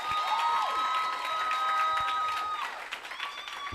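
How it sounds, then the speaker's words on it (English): A workshop audience claps steadily while sustained tonal sounds, like a voice or music, ring over the clapping, with the tone sliding near the end. "Let's give them a crazy round of applause."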